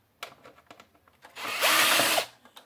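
A power drill briefly whirs up to speed while backing screws out of the power board of an RCA TV, preceded by small clicks and handling taps.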